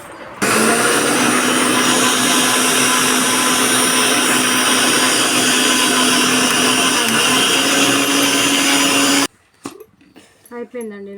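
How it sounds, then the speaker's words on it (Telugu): A mixer grinder blends a vanilla cornflour shake, a loud steady motor whine running for about nine seconds before cutting off abruptly, followed by brief clatter and faint voices. "మిక్సీలో పెట్టేసి తాగేసి"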